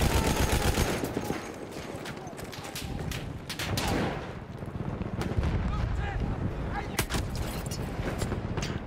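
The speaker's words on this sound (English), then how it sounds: "He just shot through a wall." Gunfire in the video game Battlefield 1, rapid bursts and single shots cracking in a dense mix with booming blasts and battlefield rumble, close and loud throughout.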